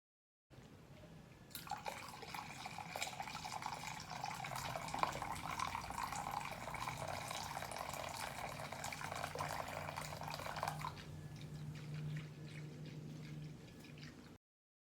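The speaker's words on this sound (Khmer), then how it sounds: "យើងចាប់ផ្ដើមយកទឹកក្តៅនេះមកចាក់តែម្ដង" Hot water, about 450 ml, is poured steadily into flour batter for a Khmer coconut-filled pan cake. It makes a continuous close-up splashing pour of roughly nine seconds, with a faint hum continuing after it stops.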